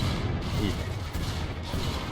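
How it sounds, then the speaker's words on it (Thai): Grenades burst in rapid succession during a Killing Floor 2 battle, dense overlapping booms and crackling blasts forming a loud, nearly continuous barrage with no pauses. "ระเบิดไปรัวๆระเบิดไป"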